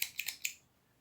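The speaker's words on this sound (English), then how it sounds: "then you cut the excess thread off" Small scissors snip excess crochet thread in a few quick, crisp cuts close by, followed by silence.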